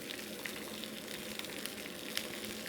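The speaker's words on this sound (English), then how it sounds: "I'm going to start to just baste the top of the salmon fillet with that miso paste. It will hit the pan" Salmon fillet basted with sugary miso paste sizzles steadily in a hot pan, a dense continuous crackle with small pops scattered through, fairly quiet and close, with no voices.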